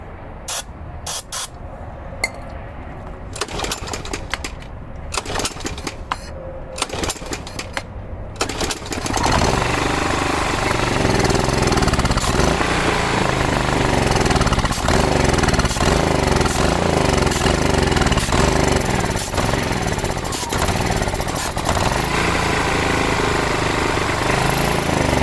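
A Ryobi RYi2200 generator with a suspected carburetor fault is pulled over a few times with bursts of noise, then catches and runs on, a loud, steady engine drone that fills the rest.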